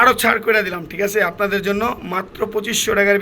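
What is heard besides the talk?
None of the usual background noises is heard.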